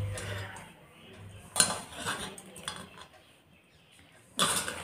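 Stiff thekua dough being mixed by hand in a metal bowl, heard as soft scraping and kneading with a few sharp knocks and clinks of the bowl, close and fairly quiet.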